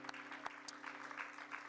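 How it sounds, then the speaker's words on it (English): Congregation clapping in praise during a church service, a steady wash of applause held at a moderate level throughout, with a hum running underneath. "can we give God a hand clap of praise in this house today?"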